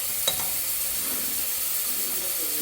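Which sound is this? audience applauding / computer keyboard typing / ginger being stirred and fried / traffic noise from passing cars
ginger being stirred and fried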